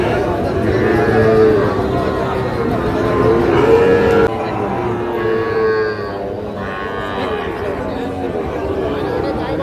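A young Sahiwal bull calf at a busy village cattle market lets out drawn-out moos, one after another, over the constant chatter and babble of a crowd of people talking nearby.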